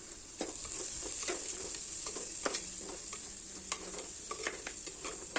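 Chili powder, Kashmiri chili and coriander powder being stirred and sautéed in a pan for an anchovy curry, giving a steady sizzle with repeated scraping and stirring strokes, close and alone.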